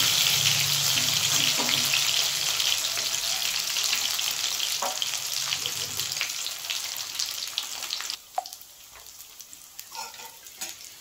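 Soybean muthia fry in hot oil, giving a continuous bright sizzle and crackle that stays dense for several seconds, then thins as a utensil clinks and stirs through the pan.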